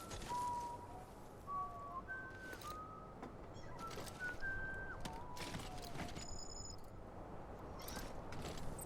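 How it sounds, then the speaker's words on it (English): A clear melodic whistle of rising and falling tones in the video game Death Stranding, several short phrases spread across the clip over a soft ambient background, followed by faint higher chirps. "BB likes it when you whistle, Sam."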